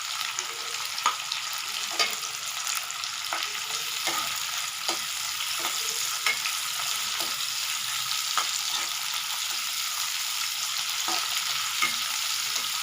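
A single sliced onion sautés in a pan with a steady, bright frying hiss, punctuated by soft periodic stirring scrapes, close and even, with no voices.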